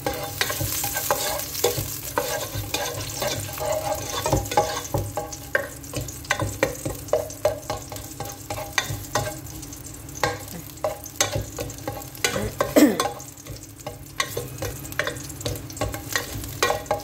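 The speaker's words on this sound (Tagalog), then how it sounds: "So, ilagay natin yung bawang." Garlic sizzling in a hot pan while being stirred with a ladle, steady frying crackle under frequent scraping and clinking strokes of the utensil against the pan.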